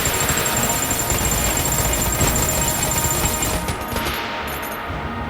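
Dense, continuous rapid gunfire from Enter the Gungeon, a loud unbroken stream of overlapping shots that thins out near the end, with no talking.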